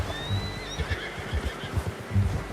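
A horse in Red Dead Redemption 2 whinnies once, a shaky rising-and-falling neigh, fairly close, with soft background noise around it.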